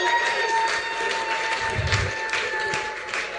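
Audience applause at a real estate company event, a steady wash of clapping with a few taps and thuds, fairly even throughout with no clear talk.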